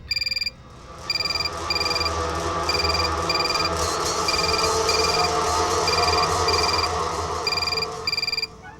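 A telephone ringing in repeated electronic trills, each burst followed by a short pause, loud and near over a busy background murmur of room noise.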